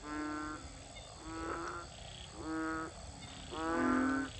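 Narrow-mouthed frogs at Ban Khok Sa-at give four loud, buzzing, bleating croaks, each about half a second long and spaced roughly a second apart, close by over a soft background hiss.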